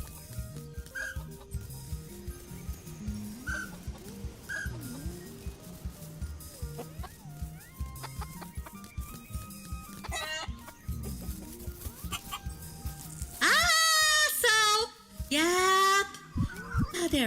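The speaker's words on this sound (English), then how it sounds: "once all the chickens are fed" Chickens in the farming video game Dinkum cluck and squawk intermittently over a steady background of game music and ambience, growing louder and more agitated in a burst near the end.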